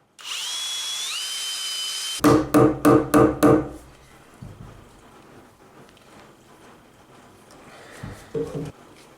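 About five sharp hammer blows strike in quick succession while building an off-grid cabin, loud and close, after a high whining tone, followed by quieter scattered knocks and handling noise.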